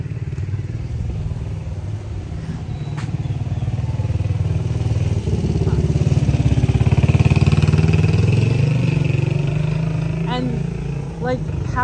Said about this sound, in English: that is like a mom, pop, and children riding on the back of a motorcycle